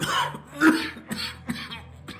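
A harsh cough in the video game Alpha Protocol, in a bar in Moscow, breaks out, followed by several more raspy coughs and throat-clearing sounds, close and fairly loud.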